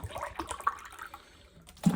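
Sparkling water is poured into a tall glass holding lemon juice at a kitchen sink, a brief splashing, fizzing pour of about two seconds, close and moderately loud.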